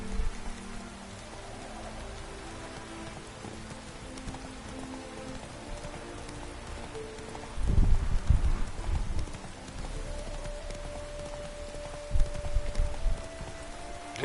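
Roach the horse's hooves clip-clop in a video game, a steady plodding rhythm over a rain-like hiss of background ambience, with heavier thumps of movement breaking in partway through.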